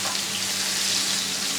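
Fish pan-frying in hot oil, a steady close hiss and crackle of sizzling that runs evenly throughout with no talk.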